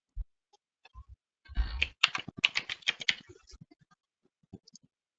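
Rapid clicking keystrokes on a computer keyboard come in a short burst of typing, close and clear against a quiet background, with a few isolated clicks before and after.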